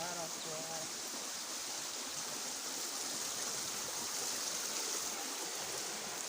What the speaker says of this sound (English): So this is the bridge, and then this is the water.